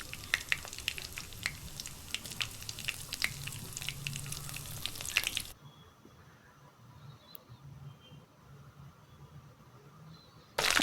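Ingredients for mutton leg soup fry in a pan with a crackling, popping sizzle for about half the time, then the sound drops away abruptly to a faint, quiet background.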